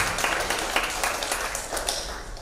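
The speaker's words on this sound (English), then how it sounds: "Can we get one more round of applause?" A short burst of dense audience applause, steady and fairly close for a couple of seconds with no talk over it.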